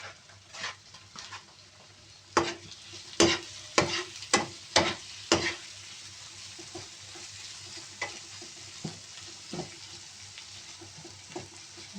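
Shrimp hitting a hot pan of frying garlic and onion: a steady sizzle runs throughout, broken by a cluster of loud scraping stirs and clatters in the middle and softer stirring afterward.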